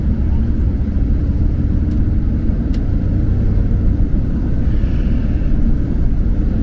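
Cars speeding past on a road, heard from inside a vehicle pulled over to the roadside, a steady loud engine and road rumble with faint whooshes as they go by.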